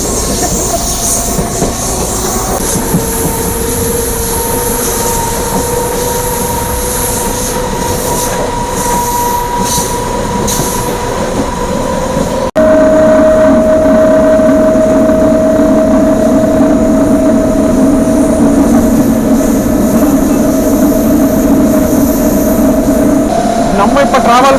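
A DEMU passenger train from Karaikal to Velankanni rumbles along loudly from onboard, with a steady roar, drawn-out tonal squeals from wheels or motors, and a sudden louder, denser stretch midway through.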